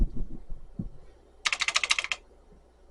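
A quick run of clacky keystrokes on an old computer keyboard, about a dozen sharp taps in a row, close and fairly loud, after a brief murmur of speech.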